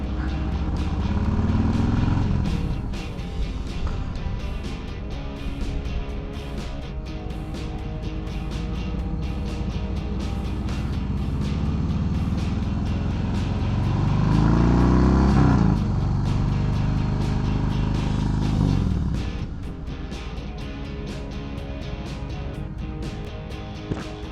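Motorcycles riding alongside a Yamaha Star on the road: a steady engine drone with rising and falling revs as the bikes accelerate and shift, with wind rumble throughout.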